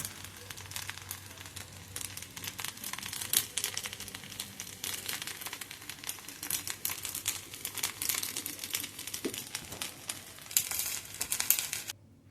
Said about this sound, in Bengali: এখন আমি কিছুক্ষণ নেড়ে নেবে এটা অনেকক্ষণ নাড়তে হবে